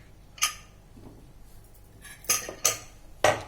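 A spoon stirs freshly cooked vegetable urad dal khichdi in an opened pressure cooker, giving a few sharp metallic clinks and scrapes spaced apart against a quiet kitchen background.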